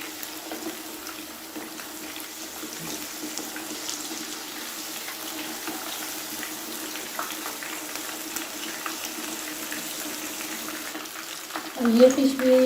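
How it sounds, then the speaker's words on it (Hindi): Fish fries in a pan for a Lahori fish fry, a steady soft hiss and sizzle throughout with a voice talking over it and a louder flare-up at the end. "और अब ये जो बाकी की फ़िश है इसे भी फ्राई कर लेती हूँ।"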